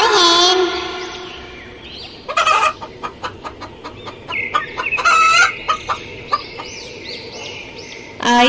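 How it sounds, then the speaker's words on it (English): Farmyard poultry calls: a series of short clucks and squawks in an irregular rhythm, close and fairly loud, with a sustained crow-like call near the end, heard alone without talk. "H for hen."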